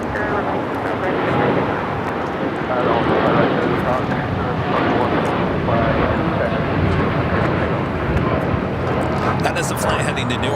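A United Airlines Boeing 787-10 Dreamliner jet at LAX roars steadily as a loud, broad engine rush for the whole stretch, with a voice talking over it.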